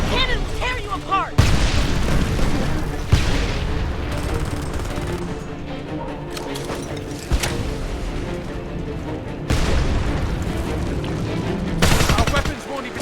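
Heavy APC cannon fire in the video game Homefront, loud bursts of booming gunfire repeating through the scene amid battle noise and shouted voices.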